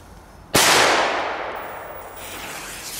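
A Belgian Dum Bum firecracker set off outdoors gives one sharp, loud bang that rings and decays over a couple of seconds, heard on its own with no talk.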